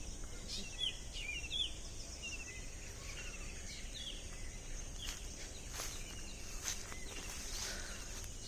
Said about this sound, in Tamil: நேச்சரோட சவுண்டு கேட்போம், சிட்டுக்குருவி சத்தம்.